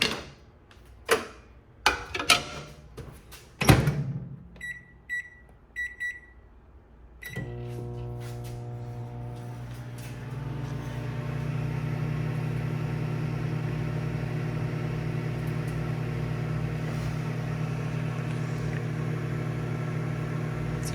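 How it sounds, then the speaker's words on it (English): Beeps and clicks from a microwave being set open the clip, then the oven hums steadily as it heats a meal, running on a Foxtheon IGo3600 portable power station with a low, continuous drone. "Just gonna microwave my lunch here,"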